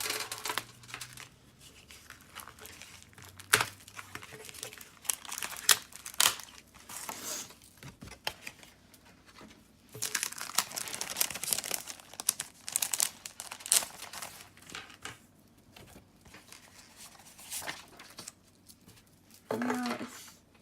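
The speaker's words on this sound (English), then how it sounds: "let's open up the packet and see what we've got" Close, continuous crinkling and rustling of a plastic packet being handled and torn open, with irregular louder crackles and occasional light clinks.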